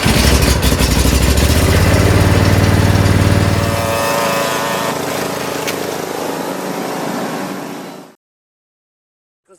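A free curbside Toro Recycler Personal Pace self-propelled lawn mower engine runs steadily and loud at close range, then its note drops partway through and it cuts off to silence near the end.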